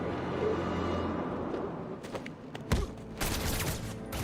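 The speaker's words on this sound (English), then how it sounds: "guy shoot me so fast?" Rapid enemy gunfire bursts out in Batman: Arkham City, loud volleys cracking in the second half over a dense game soundtrack, with sharp shots clustered near the end.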